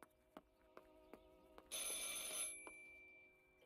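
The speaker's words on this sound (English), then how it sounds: "I should pick up the phone, but remain silent." Telephone ringing in the video game Martha Is Dead, with a few sharp, evenly spaced rings followed by a louder sustained bright ring that then fades. The ringing is quiet and there is no talking.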